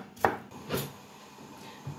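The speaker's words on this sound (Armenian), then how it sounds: "Դե սոխը արդեն մանրացնում եմ" A knife chops an onion on a board with a few sharp, separate strikes, two close together and one softer one after a pause, quiet and near.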